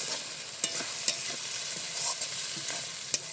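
Tomatoes frying in a pan with eggs, salt and turmeric are stirred, giving a steady close sizzle broken by a few sharp spatula clicks against the pan.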